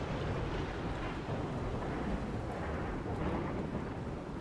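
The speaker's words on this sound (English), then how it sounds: "Man, this frickin' thunderstorm" A thunderstorm with rain in the video game RimWorld gives a loud, continuous roar of heavy rainfall with deep rumbling throughout and no voices.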